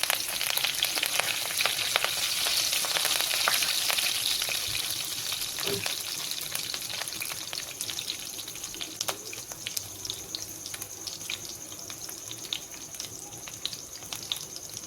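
Curry leaves crackle and sizzle in hot oil for idli sambar, a loud steady frying hiss with scattered pops, easing slightly over the span.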